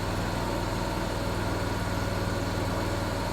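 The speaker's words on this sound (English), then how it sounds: "it comes down to idle and you don't have to listen to the thing" The engine of a Miller Trailblazer 325 EFI welder generator idles steadily at low revs, a constant throbbing drone with no talking.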